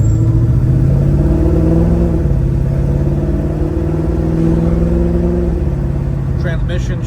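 A 1970 Chevrolet Nova with a mildly shift-kitted transmission drives steadily, its engine droning loud and constant with pitch rising, dipping at a gear change and rising again, all under someone talking throughout.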